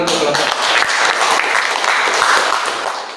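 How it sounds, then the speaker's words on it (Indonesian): A classroom of students claps for a student group, a loud burst of many hands at once that stays dense and lively before fading slightly at the end. "Beri tepuk tangan dulu untuk kelompok."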